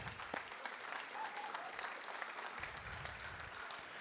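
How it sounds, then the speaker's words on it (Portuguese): A church congregation claps steadily, a sustained burst of applause with many hands for the women, moderately distant, with a brief murmur of voices. "eu quero aproveitar e dar uma salva de palmas às mulheres"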